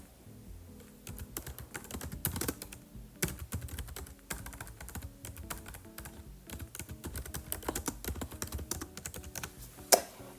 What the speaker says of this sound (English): let's type that in there